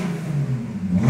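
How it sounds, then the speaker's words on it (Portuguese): A Fiat Uno car engine revving up close, a steady low rumbling drone rising slightly in pitch toward the end. "Eu amo o barulho desse carro"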